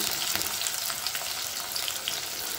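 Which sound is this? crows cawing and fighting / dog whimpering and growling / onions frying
onions frying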